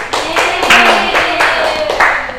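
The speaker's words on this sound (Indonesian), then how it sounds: "Tepuk tangan buat Mbak Miska sama Mbak Lutfia." Classroom of students clapping for two classmates, a close, brisk patter of hand claps in several quick bursts lasting a couple of seconds.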